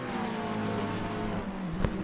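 A blue McLaren race car in an endurance race at Silverstone in a racing game, its engine droning steadily at high revs, near and continuous, with a brief sharp transient near the end.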